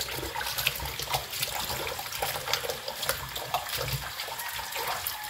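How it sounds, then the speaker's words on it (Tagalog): Beef ribs and meat being rinsed under a running tap for beef stew, a steady splashing water stream that stays fairly loud and continuous throughout, with no talking. "hugasan na natin tong karne ng baka"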